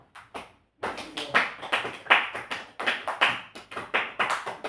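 A church congregation claps hands together in a steady, fairly even rhythm, loud and close, after a brief pause at the start.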